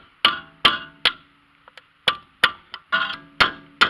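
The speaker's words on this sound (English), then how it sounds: "now we're just going to give it a good smack with a hammer to get off." A hammer smacks a VW Golf Mk1 inner CV joint with a series of about eight sharp, loud metallic strikes in an uneven rhythm, close by, with a couple of lighter taps between them.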